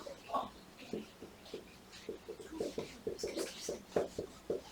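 Chalk or a marker taps and scrapes across a board in quick short strokes during a number theory lecture, faint and close, with a few soft sounds between the strokes.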